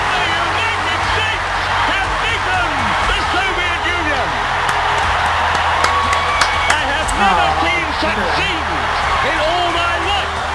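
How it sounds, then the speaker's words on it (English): Capacity crowd in an Olympic ice hockey arena at the 13th Winter Olympics roaring and cheering continuously and loudly, with whistles and whoops, under excited commentator speech. "Listen to this crowd."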